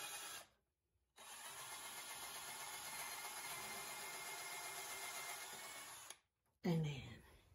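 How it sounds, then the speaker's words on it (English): A power drill pre-drills a hole in wood for a paint storage cart, running at a steady, loud whine for about five seconds, then stopping, with brief quiet gaps before and after. "Pre-drill the hole."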